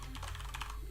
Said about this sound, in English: Why can I can never type on this keyboard?